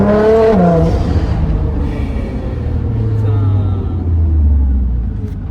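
A Nissan GT-R engine rumbles low and steady at close range, with a deep drone that rises and shifts in pitch, and a voice speaks briefly over it at the start.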